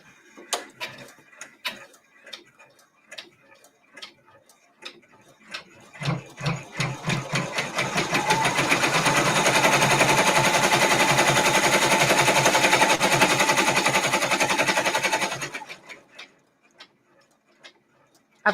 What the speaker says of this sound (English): now it's going to stitch the threads for the packages on the top